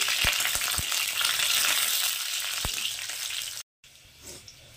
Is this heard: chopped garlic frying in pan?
yes